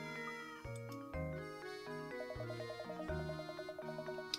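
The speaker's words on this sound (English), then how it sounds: "What's this cat doing here?" A cartoon cat meows in the Professor Layton and the Curious Village video game, set against bright layered game music with plucky melodic notes.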